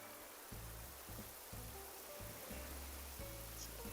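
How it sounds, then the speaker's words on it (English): Ocean waves break softly on a beach in the video game Animal Crossing, a faint continuous wash with a low rhythmic pulse of surf repeating about every half second. "hearing the ocean waves breaking"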